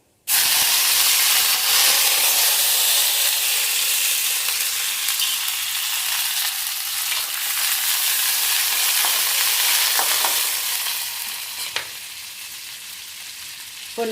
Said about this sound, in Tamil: இதோ கடுகு போட்டாச்சு. ஊற வச்ச சீரகம்